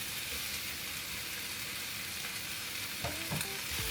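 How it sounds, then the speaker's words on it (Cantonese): Chicken pieces go back into a wok with sweetcorn and sauce, producing a close, steady hiss of frying with a brief scrape of stirring near the end. "煎到差唔多，我哋要將啲雞件回鑊"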